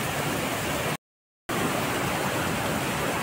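Nalkund waterfall near Buldhana rushing with a loud, continuous broadband roar, briefly cut to silence for half a second before resuming just as strong.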